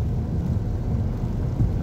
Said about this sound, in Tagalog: Oh, medyo malakas ang ulan dito.